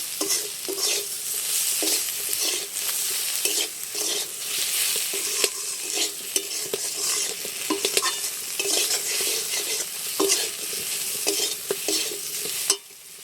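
Okra being stirred with turmeric and chilli powder in a hot pan, a constant close sizzle overlaid with frequent spatula scrapes and knocks against the pan.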